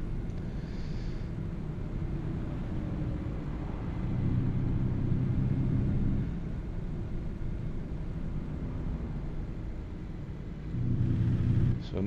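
Truck engine driving in the American Truck Simulator video game, a steady low rumbling drone throughout with slight swells in loudness, no talking.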